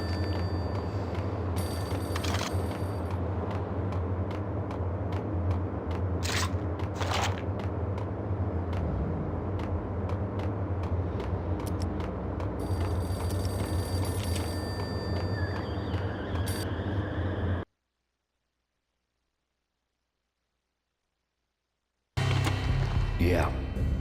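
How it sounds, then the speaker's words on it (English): A payphone rings in the Max Payne video game, repeated electronic bell trills in regular bursts over a low ambient drone, then a sudden cut to silence before the background returns. "The payphone started to ring."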